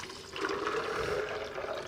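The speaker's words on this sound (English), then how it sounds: "so to the almonds, we're gonna add water" Water poured onto raw, untoasted Marcona almonds in a restaurant kitchen, a short continuous splashing fill heard close and alone.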